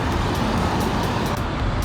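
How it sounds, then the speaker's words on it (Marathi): A large intercity bus on a road in Kandivali East, Mumbai, passes as a dense, steady roar of engine and road noise. It is loud and close throughout the short moment, with no talk. "मस्त एकदम मोठी बस आलेली आहे"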